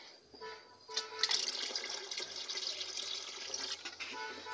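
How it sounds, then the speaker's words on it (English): Water splashes steadily as it is poured into thick fermenting chicken feed, a soft continuous trickle close by at low volume after a brief start. "So now we'll add a little more water to it."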